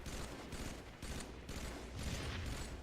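Battle rifle bursts in Halo 3, faint rapid gunfire pops repeating in quick groups with no talk.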